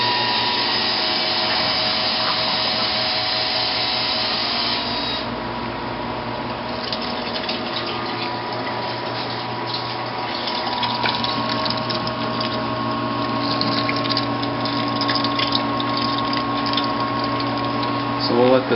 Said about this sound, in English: What I'm going to do is turn on the pump and get everything sanitized and recirculated.